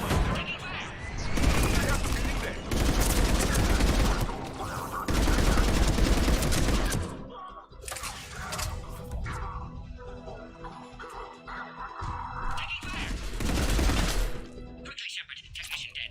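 Heavy gunfire at a Cerberus checkpoint in Mass Effect, with long sustained volleys of automatic fire broken by short pauses, loud and close, and voices talking between the bursts.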